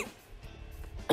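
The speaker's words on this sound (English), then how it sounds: "I've tried to record this voiceover so many times, and I just keep coughing" A single short cough bursts out near the end, close to the microphone, after a stretch of quiet room tone during a voiceover recording session.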